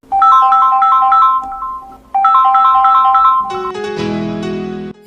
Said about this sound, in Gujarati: મારે પણ કવિતાનો ફોન આવે છે.